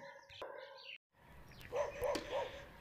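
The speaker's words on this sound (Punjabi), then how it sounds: "ਇਹ ਜੀ ਆਪਣਾ ਵੁਲਫ ਡੌਗ" A wolf dog lets out three short barks in a quick, evenly spaced run, moderately loud and close. Faint bird chirps come earlier, then a brief silence before the barks.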